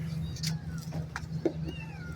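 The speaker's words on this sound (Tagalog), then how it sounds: "pusa na alaga ko" A pet cat meows a few times close by, short rising cries over a low background hum, with a voice speaking briefly in the room.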